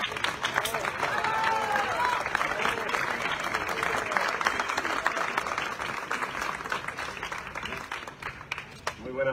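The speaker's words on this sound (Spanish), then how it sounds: "Un aplauso, por favor." An audience at a Falla Plaça del Pilar anniversary booklet presentation in Valencia breaks into sustained applause, dense and loud clapping with some crowd murmur, tapering slightly toward the end.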